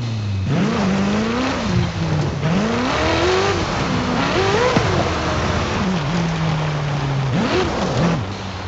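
A Ferrari supercar driven in the racing game Forza Horizon 5, its engine note droning loud and steady with pitch swells as it revs, shifts and accelerates, alone without talk.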